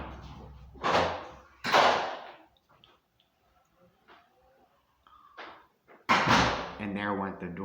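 A door slams with heavy thuds among muffled knocks and bumps, with a loud bang near the end, while people talk nearby.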